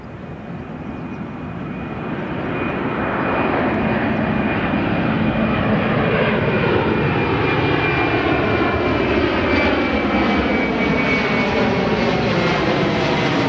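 A fixed-wing airplane's engine roars steadily near a runway on a sunny morning, swelling over the first few seconds and then holding loud and close without any voices.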